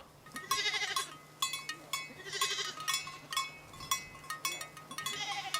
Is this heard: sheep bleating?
yes